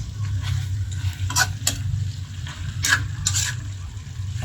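Chicken stir-frying in a pan for adobo until browned, a low steady sizzle under a few sharp scrapes and clinks of a utensil against the pan, close and fairly loud, no talking.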